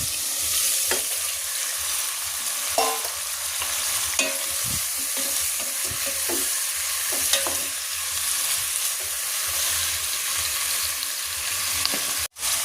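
Salmon belly frying in a pan for sinigang, a steady loud sizzle running throughout with scattered scrapes and clatters from stirring, no talk.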